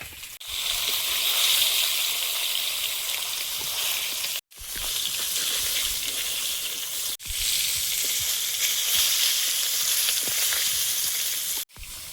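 Fish frying in hot oil gives a loud, continuous crackling sizzle close by. The sizzle breaks off sharply in three brief cuts and resumes each time at the same level, with no talking.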